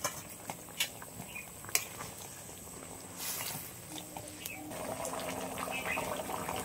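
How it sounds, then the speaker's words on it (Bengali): A curry of live koi fish and coconut water boils in a pan, giving a soft bubbling and liquid patter with a few sharp clinks early on. The bubbling grows steadier and fuller toward the end. "আর ঝোলটাও ভালোভাবে ফুটে উঠেছে।"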